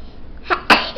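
Two quick, small sneezes from a baby, the second sharper and louder, close by in a quiet room.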